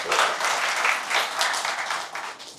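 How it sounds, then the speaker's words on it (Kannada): An audience at a university lecture breaks into applause, a dense burst of many hands clapping that swells and ebbs over a few seconds with no talk on top. "ದಯವಿಟ್ಟು ಎಲ್ಲರೂ ಚಪ್ಪಾಳೆ ತಟ್ಟಬೇಕು"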